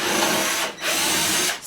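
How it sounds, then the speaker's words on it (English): A power drill bores into wooden boards on a DIY fabric cocktail ottoman build, a steady loud whir with a short dip midway before it resumes. "you'll need to drill it a little bit at a time"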